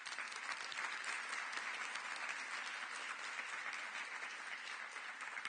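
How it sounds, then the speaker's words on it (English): Steady, even applause from a conference audience welcoming a young innovator on stage, a continuous dense patter of clapping heard at a low, distant level. "So please give Jack ANDRAKA a warm applause."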